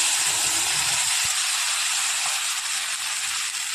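Spiced paste going into a hot pan while cooking meat at home, giving a steady, loud broadband sizzle that holds constant throughout with no voices.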